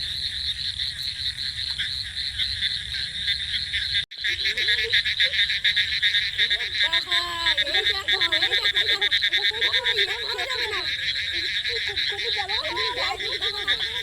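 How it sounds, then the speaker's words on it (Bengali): Crickets trill in a steady, dense chorus by the water on a pre-monsoon night, with frogs croaking in irregular bursts over it from about seven seconds on. No one speaks. "ঝিঁঝি পোকা ডাকছে দেখো"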